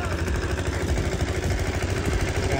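A tractor-driven electric generator runs steadily at the farm, its engine chugging in a continuous low, clattering idle-like rumble throughout with no voices.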